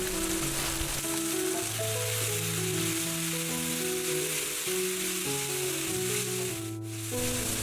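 Bean sprouts sizzle steadily with spices in a hot frying pan, a continuous close crackle with soft stirring and a brief dip near the end.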